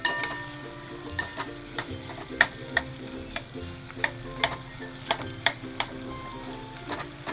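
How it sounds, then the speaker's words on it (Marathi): Chillies, ginger and garlic frying in a pan for a Malvani crab curry: a soft steady sizzle punctuated by repeated sharp metallic clinks of a spoon stirring against the pan, close and alone. "मिरच्या टाकूया, आलं टाकूया, लसूण टाकूया आणि हे लाल होईपर्यंत भाजूया."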